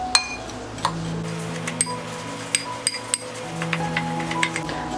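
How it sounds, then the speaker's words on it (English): Ground spices for a BBQ dry rub stirred in a bowl, with a series of light, close clinks and taps of a utensil against the bowl, irregular and spaced out, over a quiet background. "I'm going to mix it up."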